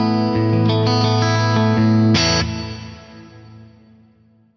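Large plate reverb with a long pre-delay, blended in parallel with the dry signal on a sustained, effected instrument chord; the chord swells, a brighter stab enters midway, then a reverb tail decays away, no talking.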